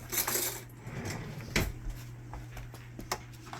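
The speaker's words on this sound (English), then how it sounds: "I am going to get a clean spoon since I made a mess out of that one." A metal spoon clinks and rattles among kitchen utensils in a drawer or on a counter. Scattered light close taps and jangles come with one sharper clack.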